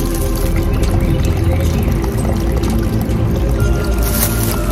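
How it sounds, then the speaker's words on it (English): Running water in a stream along a quiet closed road, a steady broadband rushing and trickling that fills the whole clip at close range with no talk over it. "Yep, there's some running water."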